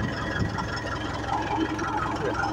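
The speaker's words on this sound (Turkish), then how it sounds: "Evet traktör sürüyor, sıra yapıyor." A tractor engine runs steadily as it drives along a row at a village in Karaman, a constant mid-low rumble with a faint knocking pulse and no talk over it.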